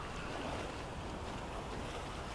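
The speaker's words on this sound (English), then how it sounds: "It is windy and hot." Wind and waves at sea around a boat in a survival video game, a faint, steady wash of surf and breezy rushing with no voices.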